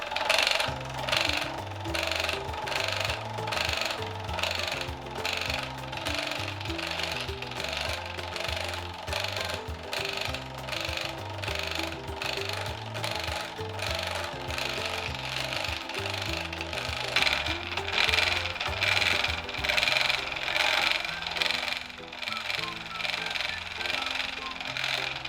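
A Canadian production spinning wheel spins silk yarn, giving a steady, continuous rhythmic whirring and clacking with a close, even treadle beat throughout.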